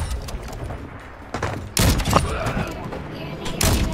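Gunfire in Call of Duty: Modern Warfare 2, a few sharp bursts of shots at close range over a steady bed of game noise, with a player's voice at times.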